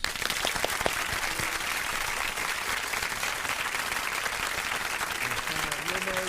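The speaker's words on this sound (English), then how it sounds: "let us give her a proper round of applause" An audience at an interview event breaks into steady, dense applause, many hands clapping together at an even level throughout.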